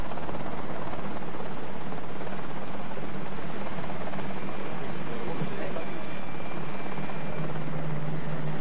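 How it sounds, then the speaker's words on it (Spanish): Helicopter arriving at the bow of the research ship Calypso in the South American far south, a steady broadband rotor and engine roar throughout, with a voice speaking over it. "llega en helicóptero a la proa del Calypso."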